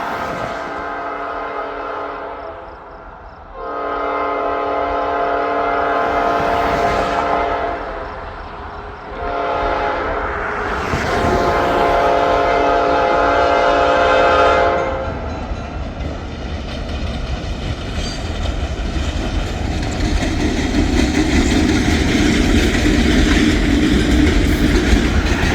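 Locomotives hauling a freight train roll past a trestle over a river in a park, a loud sustained rumble of engines and clattering wagons with horn blasts sounding early on, continuing steadily throughout with no voices.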